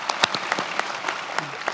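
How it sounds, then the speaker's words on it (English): Applause from the audience at the 2016 UHV spring graduation ceremony: a thin, scattered patter of claps from a crowd at moderate distance, with no voices over it. "applaud"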